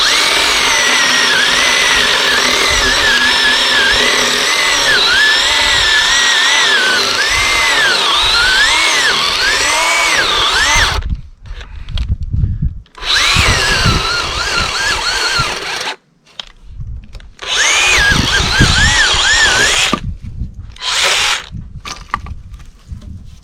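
Small mini chainsaw cutting firewood logs, a high revving whine that bogs and wavers as the chain binds, then cuts out into short gaps and restarts in bursts, loud and close without talk.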